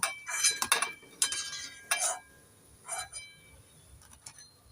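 Fried semolina puli pitha is set onto a plate in a home kitchen, producing a few light clinks and taps of crockery, sparse and close, with quiet pauses between them.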